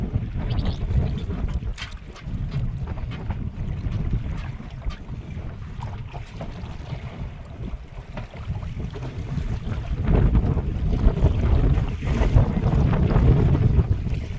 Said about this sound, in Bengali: এত ঢেউ হচ্ছে।